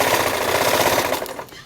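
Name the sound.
sewing machine stitching a pleated skirt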